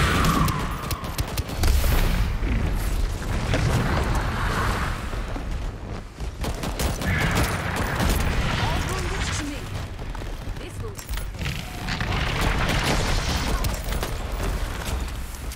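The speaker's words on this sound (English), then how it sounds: "Homing missile launched." Homing missile launches and combat blasts in the co-op shooter Shatterline, a dense run of loud booms, rumbles and mechanical clatter with repeated bursts, continuous and close throughout.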